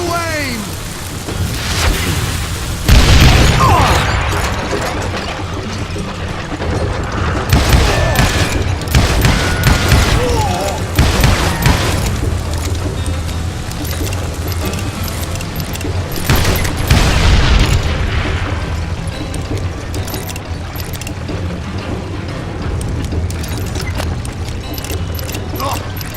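Gunfire in the Western shooter game Call of Juarez: Gunslinger, loud booming shots and bursts over dense, noisy game action that runs for the whole stretch.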